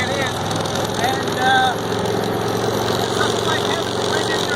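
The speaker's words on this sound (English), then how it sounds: "the sound of the engine, the Harley engine in this case" A Harley engine on a Tiger Cat three-wheeler runs at a steady idle-like rumble, close and continuous, with a voice speaking over it.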